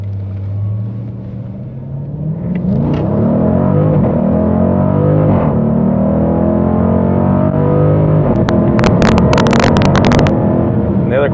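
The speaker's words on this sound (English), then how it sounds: "We'll go ahead and put it in track mode here, just see if you can tell the difference in the speed of the shifts and everything else." A 2018 Dodge Durango SRT in track mode pulls hard, its engine rising in pitch through several rapid gear shifts, loud and close, with sharp clicks and knocks toward the end.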